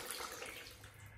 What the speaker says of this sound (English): it just sits here and drips and drips